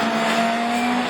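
An orange Honda rallycross race car in a French championship Division 4 race at Châteauroux roars past loudly at close range, its engine a sustained high whine with a steady tone, no voices.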